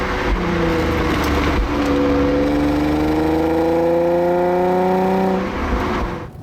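A Nissan 350Z sports car's engine revs loudly and close by, its pitch climbing steadily over several seconds before cutting off near the end, with no voices present.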